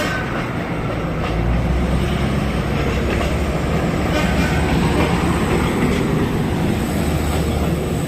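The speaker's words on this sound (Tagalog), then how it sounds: "Yun, may dumaan pan tren." A train rolls steadily past very close by, a loud continuous rumble of wheels on rails with faint metallic squeal and clatter, no voices over it.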